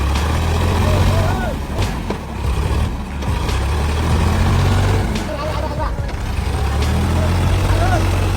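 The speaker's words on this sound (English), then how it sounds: "The roar of the engine echoes like the panting of a wounded monster." Heavy logging truck hauling acacia logs, its engine roaring loud and close as it strains through sticky mud, a steady low drone with scattered clanks and rattles.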